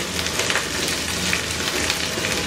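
Grated ginger and onions sizzle in a little hot oil for a low-oil chicken and chickpea dish, a steady close, dense crackling hiss that runs without pause.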